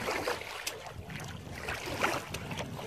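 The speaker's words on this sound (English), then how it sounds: "I finally got enough wind to sail." A sailboat under sail on the Gulf of Mexico, with wind buffeting the microphone and water sloshing and splashing against the hull in a continuous, uneven wash.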